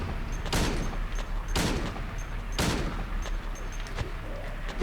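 Gunshots fired in Silent Hill 2 at an unseen invisible prisoner enemy: three loud, sharp shots spaced about a second apart, with smaller impacts between them over a steady low game ambience.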